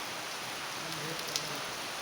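Rain falls in a steady, dense hiss outdoors on a rainy day, continuous and even throughout with one faint tap standing out, and no voices.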